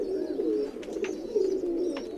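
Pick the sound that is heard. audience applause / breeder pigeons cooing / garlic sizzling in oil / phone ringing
breeder pigeons cooing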